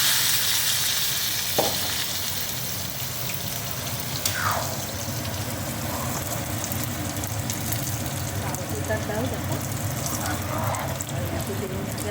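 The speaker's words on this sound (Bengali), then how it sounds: "ভেজে নিই লাল লাল করে মুগ ডালের সাথে করে এবার এগুলো দিয়ে দিই" Mung dal frying in a pan gives a constant close sizzle with occasional scraping stir sounds throughout, with no talk over it.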